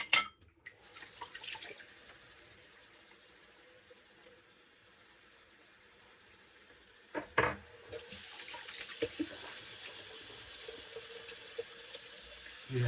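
Cold tap water runs steadily into a sink during a wet shave, a constant faint hiss with a few clinks and knocks partway through.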